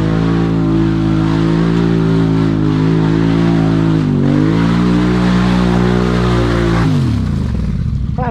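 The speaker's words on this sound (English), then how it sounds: "his belt's slipping when he hits full throttle" An off-road vehicle with a slipping drive belt revs hard at full throttle at a mud park, a loud steady engine drone that climbs and holds, dips briefly, then cuts out and winds down near the end.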